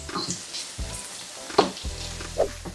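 Pork belly sizzles in a pan, a steady frying crackle broken by a few clanks and scrapes as the pieces are stirred.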